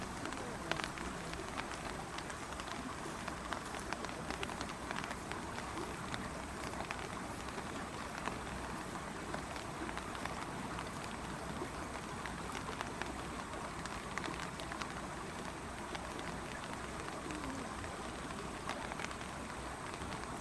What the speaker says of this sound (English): Hopefully the microphone doesn't get ruined by the rain.